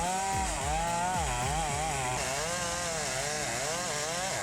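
Chainsaw cutting through a tree during felling, engine screaming loud and close with its pitch rising and dipping steadily as the bar bites into wood, continuous with no talk.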